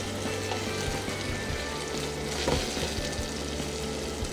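Tomatoes frying in olive oil in a pan for a basic tomato sauce, a continuous close sizzle and crackle with occasional soft scrapes and knocks of stirring.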